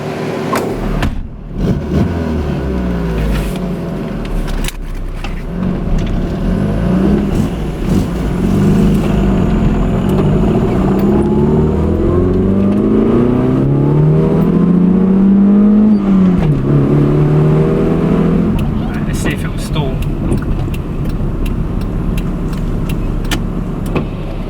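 A car engine runs on a test drive after a fix for a faulty electronic choke, steady and close, rising and falling in pitch as it accelerates and shifts, with no talking.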